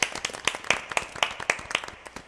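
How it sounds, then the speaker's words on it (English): Small group applauding after a university chamber choir concert livestream, a few hands clapping in sharp, distinct bursts at a brisk, slightly uneven rhythm, close and clear with no talk. "Round of applause."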